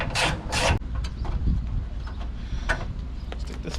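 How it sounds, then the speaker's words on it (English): Fender bolts, 10 mm, being removed from a new Subaru WRX hatchback: a quiet, close scraping and rubbing with a few brief ratchet-like clicks and knocks, with no talking. "now I'm gonna take these fender bolts off"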